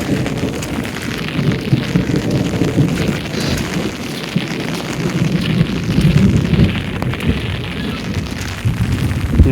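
Heavy rain pours down in a village, a dense, loud, continuous roar of water with low rumbling underneath that swells and eases throughout.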